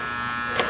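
An Andis T-Outliner hair trimmer runs after a power cord replacement, giving a steady close electric buzz throughout with one brief louder blip near the end.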